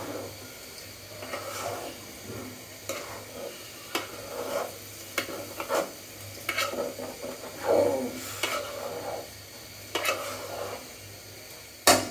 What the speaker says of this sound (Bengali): যতটা পারবেন চালটাকে ভাজা ভাজা করে নেবেন